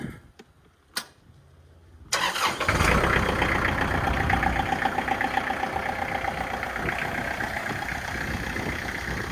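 A Kubota tractor, just back together after a hydraulic lift arm seal repair, sits quiet with a few faint clicks. Then its engine cranks and catches, settling into a loud, close, rhythmic diesel idle.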